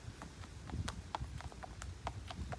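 A ridden horse makes a steady run of light clip-clop hoofbeats. The rhythm is regular and the sound is faint and close.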